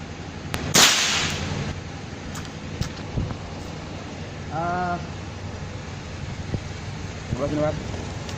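A shot from a modified air rifle fired outdoors gives a single loud, sharp crack near the start, with wind noise and voices speaking afterward.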